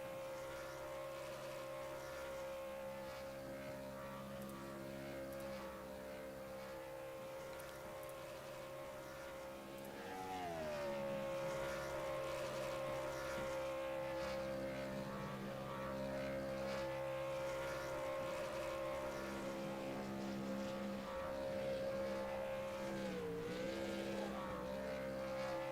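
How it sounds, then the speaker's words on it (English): Race car engines droning during burnouts in the grass in the iRacing video game, a steady sustained engine tone that swells louder midway with pitch dips as revs shift, fairly faint and without talk. "Cade McKee, he is going to do some burnouts"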